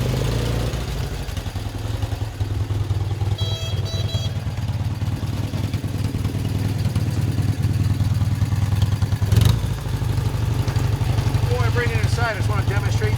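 A blue 1976 BMW R60/6 enduro motorcycle idles nearby with a steady low engine thrum and light mechanical clatter, a brief knock partway through and a faint whistle near the end.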